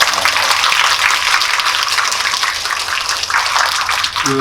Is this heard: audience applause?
yes